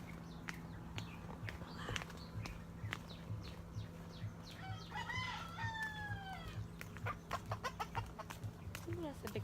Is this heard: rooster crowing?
yes